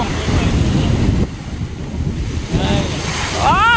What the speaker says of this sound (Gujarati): દરિયો બહુ ગાંડો થઈ ગયો છે મોજા મારે હે